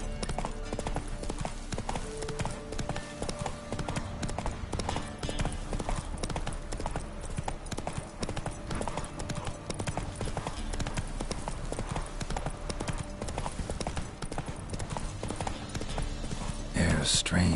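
Roach the horse gallops in The Witcher, hooves drumming in a fast, steady clip-clop rhythm that runs the whole time, loud and close, with a voice talking over it.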